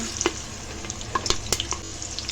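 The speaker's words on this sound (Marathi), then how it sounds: "कांदा आपण चांगला फ्राय करून घेऊया" Curry leaves and onion sizzle in hot oil inside a pressure cooker, a steady frying hiss with small crackles and pops scattered throughout, fairly close and with no voices.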